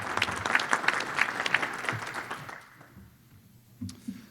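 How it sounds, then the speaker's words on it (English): An audience at a small business disaster resilience panel gives a round of applause, a steady patter of clapping for about two and a half seconds that fades to quiet, followed by faint room noise. "with a round of applause, I'd like to thank them very much for coming."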